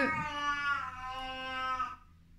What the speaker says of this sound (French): Vous voyez, il est en train de vomir, il est en train de cracher le morceau.